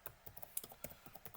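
Slow, deliberate typing on a computer keyboard, with a dozen or so separate key clicks spaced unevenly, close and moderately quiet, with no talking.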